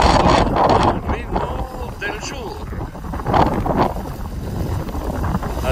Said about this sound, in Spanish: Y a la bandera el viento la mueve con fuerza a estas horas de la mañana.